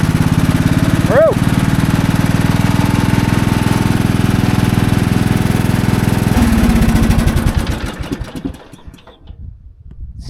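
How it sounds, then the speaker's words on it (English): A 1999 Craftsman riding tractor engine runs steadily up close with a deep, heavy low drone, a brief squeal near the start, then the engine note drops and fades toward the end. "Motor sounds heavy, healthy."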